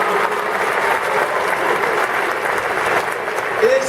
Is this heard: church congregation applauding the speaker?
yes